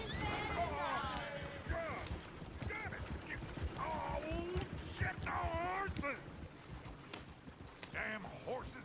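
Horse neighs and whinnies in the video game Red Dead Redemption 2 rise several times over a busy mix of hoofbeats and people talking.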